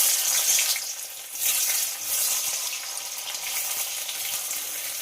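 Cut paneer pieces frying in hot mustard oil in a kadai, a bright, steady sizzle close up with slight swells in intensity over a few seconds, no speaking.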